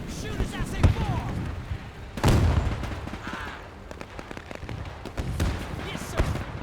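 Gunfire and explosions in the war video game Men of War II, with scattered shots and a heavy boom mixed under ongoing talk.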